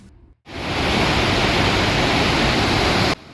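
Steady, loud rushing water roars after a brief quieter moment, a dense wash of noise as the Mapocho River in Santiago, Chile churns through a narrow concrete-walled channel.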